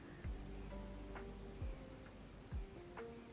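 Steady, soft rainfall patters in the video game Skyrim, with a few dull low thumps and faint tones scattered through the quiet, even hiss.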